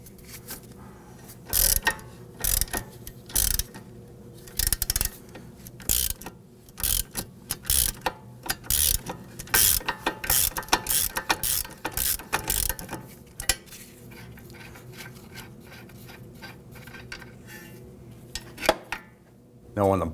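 Rapid metallic ratcheting from a wrench spinning a sway bar end link nut off a Volvo S60, held with a T40 Torx bit, in quick repeated bursts with short pauses and a few clanks near the end.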